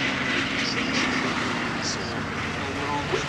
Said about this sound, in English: what a beautiful display by the two Westland Lysander IIIAs. And they're coming to land